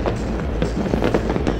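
Fireworks burst over a city at a New Year's Eve celebration, a dense, loud run of overlapping bangs and crackles with no pause between them.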